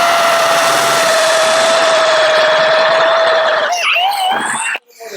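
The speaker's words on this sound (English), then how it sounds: "we are drilling through a galvanised piece of steel" A drill bores steadily through galvanised steel capping with a loud, sustained whine that wavers near the end and then cuts off abruptly as the bit breaks through.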